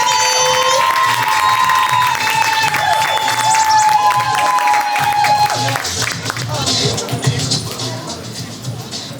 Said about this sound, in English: Clap it up, clap it up, clap it up, Renee, for Melanie.